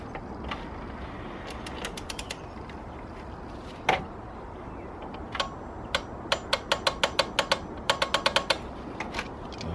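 A ratchet tightens the oil filter cap on a BMW N47 or N57 diesel engine, giving quick bursts of close, crisp clicks in uneven runs over a low background hum.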